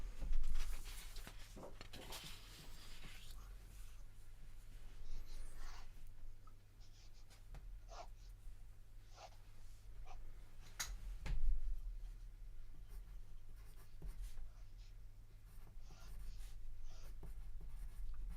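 Graphite pencil scratching and rubbing across paper during a basic drawing lesson, steady close strokes with a few sharper taps, quiet over a low electrical hum and no talking.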